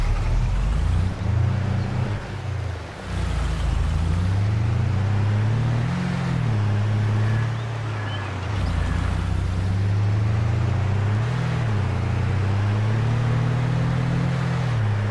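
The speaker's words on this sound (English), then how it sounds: "yeah, the engine is started" Engine of a farm vehicle in Farming Simulator 22 runs steadily throughout, a loud low drone whose pitch dips and rises slightly as the revs change, with no talking.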